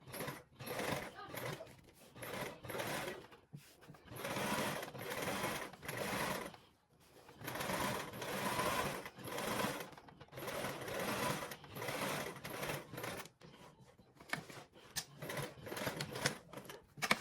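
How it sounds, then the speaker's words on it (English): A sewing machine top stitching a fabric charm seam, running in long steady whirring stretches with brief pauses between them; a voice talks faintly over part of it. "now you're going to go ahead and top stitch that with a 1/8 seam allowance"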